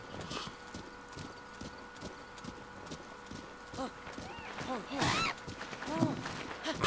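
Horse hooves clip-clop rhythmically in a Zelda video game, fairly faint and steady, with a few brief whinny-like calls toward the end; people talk over the game sounds.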